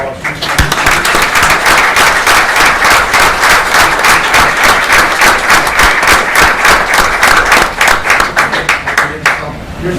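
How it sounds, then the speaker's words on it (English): Sustained applause from a crowd at a Memorial Day ceremony honoring veterans, dense steady clapping holding loud for about nine seconds before thinning near the end. "So we can have another round of applause."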